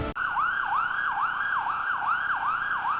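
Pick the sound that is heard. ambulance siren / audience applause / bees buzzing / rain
ambulance siren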